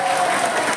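Loud, sustained applause from an audience filling the whole moment, a dense steady wash of clapping with crowd noise and no break.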